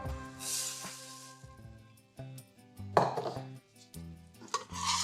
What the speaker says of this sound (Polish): I bardzo dokładnie wszystko mieszamy